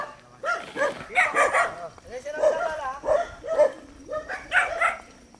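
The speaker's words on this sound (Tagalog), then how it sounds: "maingay ang mga aso nila" Several dogs bark and yip repeatedly at night in a residential area, close and fairly loud, in bursts with a few whimpers between them.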